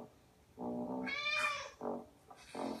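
A cartoon cat gives several clear, close meows in quick succession, the middle one rising and longest, with no talk over them.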